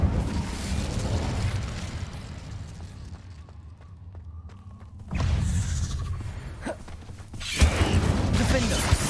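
The Incendio fire spell is cast in Hogwarts Legacy: a rushing, fiery burst over a steady roar of game noise, with whooshing eruptions swelling in loudness, then a second flaring blast near the end.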